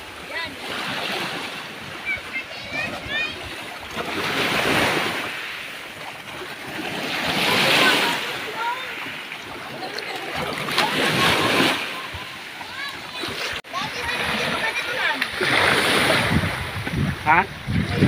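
Ocean waves surge and wash in repeated swells on a rocky stretch of white sand beach, loud and close with gusting wind noise buffeting the microphone.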